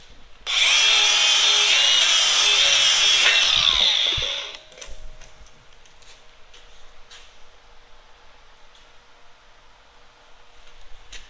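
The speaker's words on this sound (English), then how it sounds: "Now if I hit it with a wire wheel," A wire wheel on a power tool scrubs a steel weld bead on a fabricated drive roller table, a loud, harsh, steady whir lasting about four seconds before spinning down into quiet shop sounds with faint clicks.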